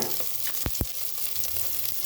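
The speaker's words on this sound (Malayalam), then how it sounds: "ഇനി ഹൈ ഫ്ലെയിമിൽ നമുക്ക് നല്ലോണം ഒന്നിങ്ങനെ വഴറ്റാം." Green chili, spring onion, beans, carrot and cabbage stir-frying on a high flame for vegetable fried rice, a continuous close sizzle broken by two sharp spatula scrapes against the pan.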